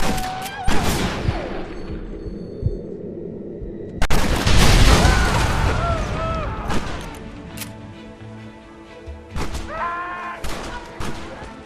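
Gatling gun fire in the video game Red Dead Redemption, heavy booming bursts and thuds that rise and fall through chaotic battle noise, with shouting voices and whistling effects scattered throughout.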